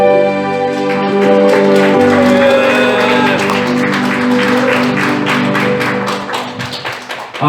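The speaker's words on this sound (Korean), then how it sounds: "우리 하나님께 영광의 박수 다시 한번 올려드립니다." A church congregation claps together in loud, dense applause over sustained musical tones, and the clapping thins out toward the end.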